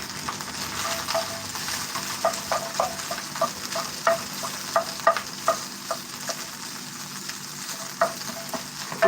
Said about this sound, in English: I'm gonna fry this rice up right now